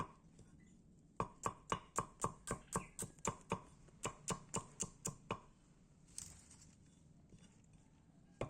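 Knife chopping Balinese spice paste ingredients on a board, a rapid run of crisp, evenly spaced chops, a brief pause, then a second burst, close up with no talking.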